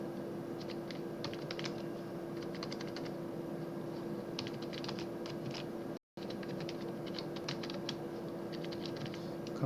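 Steady bursts of typing on a computer keyboard while composing a blog post in Windows Word, clicky keystrokes coming in quick runs with short pauses over a constant electrical hum.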